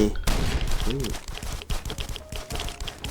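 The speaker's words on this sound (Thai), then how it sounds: "ตอนนี้ยิงบอสอยู่ครับใกล้จะตายละ" Rapid gunfire in the mobile survival game Last Island of Survival while shooting at a boss, bursts of sharp clattering shots with thuds, close and loud, alongside someone talking excitedly.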